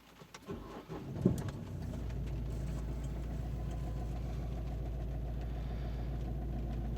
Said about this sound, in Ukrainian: І щось двигун каже, непонятно став працювати якось.